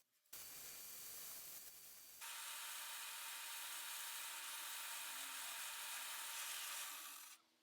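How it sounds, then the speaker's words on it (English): Carbide cutter routing a rabbet into very hard wood for a segmented mirror frame, a loud steady high whine that starts after a brief rougher burst and runs unbroken for about seven seconds before stopping. "This wood was so hard that I ended up having to use a carbide cutter for most of it."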